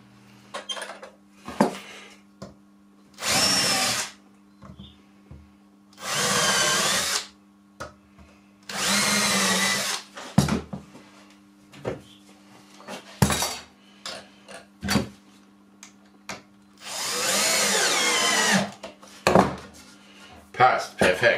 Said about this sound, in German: Erstmal vorbohren.